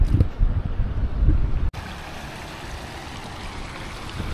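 Rising water pours over a village bridge in the Konkan countryside, a steady rushing flow with wind buffeting the microphone at first, then an even, continuous wash close by.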